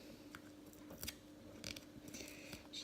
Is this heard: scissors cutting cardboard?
yes